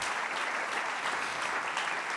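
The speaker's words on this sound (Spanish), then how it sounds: "Aplaudí al Señor por eso." A church congregation claps for the Lord during a sermon, a steady, even wash of many hands applauding together, sustained and moderately loud with no talk over it.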